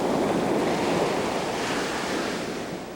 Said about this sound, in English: The pounding of the Pacific Ocean